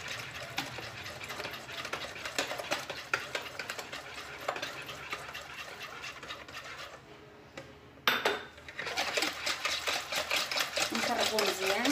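Cake batter is stirred and whisked in a bowl while oil is poured in little by little, making a steady rapid scraping and tapping that pauses briefly before resuming loud and close.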